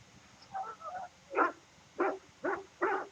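A mabari hound, the war dog breed of Dragon Age: Origins, barks in the game, giving four or five short, punchy woofs at steady intervals, loud and close with a faint low background hum.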